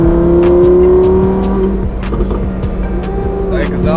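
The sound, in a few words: Lamborghini Huracan Performante exhaust while driving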